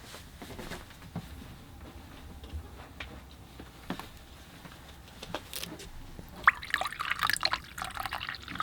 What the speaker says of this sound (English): I'm pouring some fresh, clean water into my water bucket